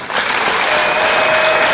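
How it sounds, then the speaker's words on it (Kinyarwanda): An audience at a Rwandan Abarangi annual day gathering applauds the arriving guests, with steady, dense clapping from a large crowd filling the whole moment. "Ndagira ngo mwongere mubandanye amashyi abashyitsi bacu."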